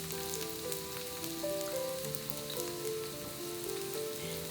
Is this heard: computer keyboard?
no